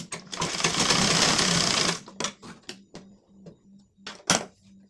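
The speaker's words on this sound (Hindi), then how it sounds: "अब हम इसे डबल सिलाई लगा लेंगे" A sewing machine runs a continuous burst of double stitching on blouse tucks for about two seconds, close and loud, then gives several short start-stop bursts with clicks and pauses between them.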